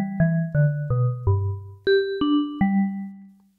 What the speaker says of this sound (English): So I have a simple vibraphone bell here.